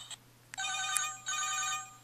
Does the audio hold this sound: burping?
no